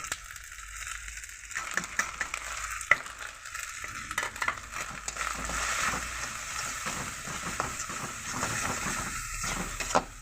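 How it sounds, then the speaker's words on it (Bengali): Salt, dried chili and turmeric powder fry with ginger and garlic in a pan for a potato fish curry, giving a steady close sizzle with repeated scraping stirs throughout. "নুন, শুকনো ঝাল, মরিচ আর হলদির গুঁড়ো দিয়ে আমি মশলাটা কষে নেব"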